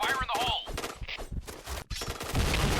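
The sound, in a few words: gunfire in Point Blank (PB) video game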